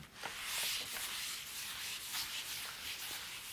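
A quiet, continuous scratchy rubbing as writing is wiped off a board during a maths lesson, with strokes swelling and fading in a loose back-and-forth rhythm.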